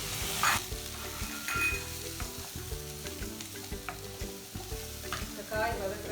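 Chayote (chow chow) cut into square pieces stir-fried in a pan for poriyal, with steady sizzling and frequent scraping stirs of a spatula, no talk.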